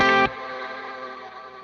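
A guitar plays through a Meris pedal set to a hazy tape-age effect: a bright chord struck close and loud, then a wavering, smeared, slightly warbling decay that fades over about a second and a half.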